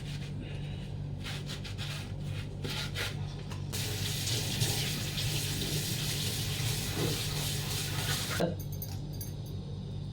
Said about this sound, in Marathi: जे एक्स्ट्रा पाणी आहे ना ते पाणी आपण निथळून घेणार आहोत